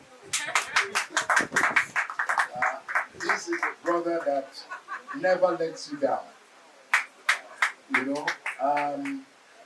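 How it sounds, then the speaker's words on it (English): Guests at a 60th birthday reception party in a penthouse clap in sharp, scattered bursts while a speaker addresses the room, the claps mixed with and alternating against the talk. "Yes, you can clap."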